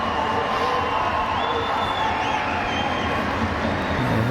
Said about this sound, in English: Round of applause from the crowd, the home crowd